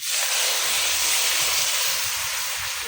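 Curry gravy is poured into a hot pan after fried eggs, giving a loud, steady hissing sizzle that lasts the whole time with no talking.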